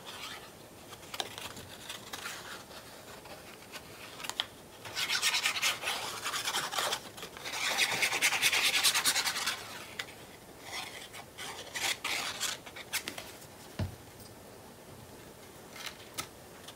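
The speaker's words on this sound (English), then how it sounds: "we are gonna put glue on this side" Glue being spread across paper for a nature notebook page, with soft scraping and rubbing strokes in irregular bursts, quiet and close, louder in the middle passages, with no talking.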